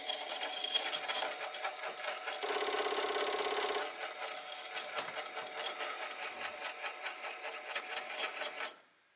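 A malfunctioning Commodore 1541 disk drive runs with a close, buzzing mechanical grind, a harsher steady whir in the middle and rattling ticks throughout, before cutting off abruptly when powered down.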